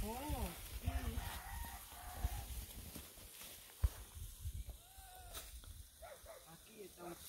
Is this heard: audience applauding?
no